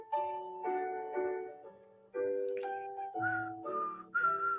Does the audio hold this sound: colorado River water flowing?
no